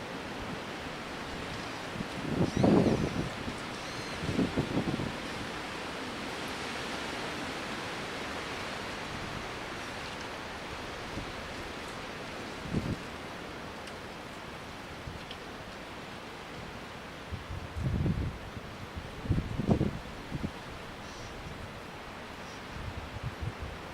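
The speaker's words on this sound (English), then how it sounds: "It's getting real windy." Strong wind during a wind storm, a continuous roaring rush with several louder gusts buffeting close to the microphone, sustained throughout.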